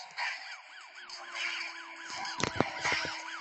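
A wailing police siren in the racing game Need for Speed Most Wanted on Android sweeps up and down repeatedly, joined by a burst of sharp horn-like blasts partway through.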